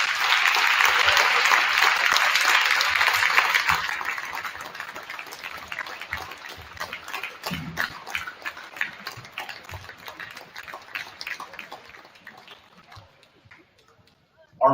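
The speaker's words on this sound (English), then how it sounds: "Please, let's give them one more big round of applause." A gym crowd at a girls' JV and varsity basketball game between Liberty Center and Delta applauds senior players, with loud, dense clapping for about four seconds that thins into scattered, fading claps.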